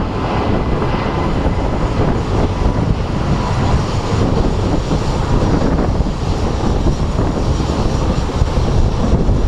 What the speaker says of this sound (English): the wind is like blowing my camera all over the place